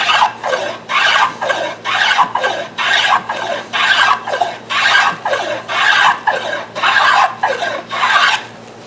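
Hand tool blade shaving a very fine decorative chamfer along a wooden edge: a steady series of about fifteen close, raspy strokes in a regular back-and-forth rhythm, each lasting around half a second, with no talk.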